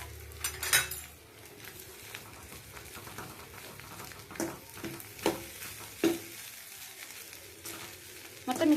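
Cooked rice is stirred into an egg mixture in a pan, giving soft scraping and stirring with light sizzling and a few sharp utensil clinks against the pan. A loud clatter comes near the start and again at the end, with no speech.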